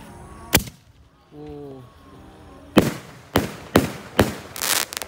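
Roman candle fireworks fire a run of sharp shots, one early bang then four loud reports in quick succession, the last crackling longest, with a short chirping tone between them.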